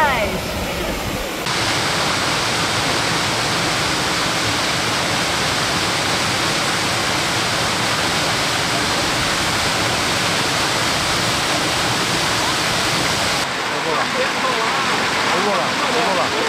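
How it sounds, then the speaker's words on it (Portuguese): Steady, loud rush of the Cachoeira dos Cristais waterfall at Biribiri near Diamantina, Minas Gerais, Brazil, a continuous broadband roar filling the whole stretch with no break. "estamos na Cachoeira dos Cristais"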